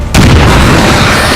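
Grenade explosion in the video game XCOM 2, a sudden loud boom with heavy low rumble that sustains as a dense roar through the rest of the short moment.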